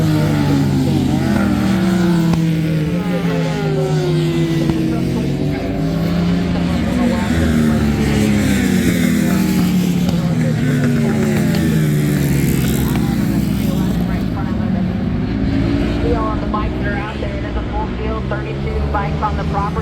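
MotoAmerica Supersport racing motorcycles scream around a road course during qualifying, a continuous loud engine roar with rising and falling revs, under a commentator's ongoing talk.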